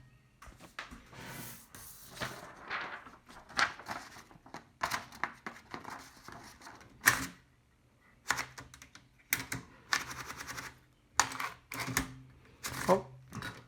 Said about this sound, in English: let's go ahead and give it a quick typing demonstration on the Fox #3